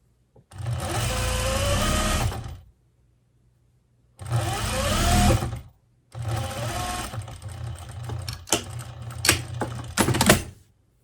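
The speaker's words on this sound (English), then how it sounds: "I'm going to sew up all the way to the top, stop 1/2 inch down." A sewing machine stitches the seam of a wool cloche hat in three runs of steady whirring, the last one breaking into uneven stop-start bursts, with pauses in between.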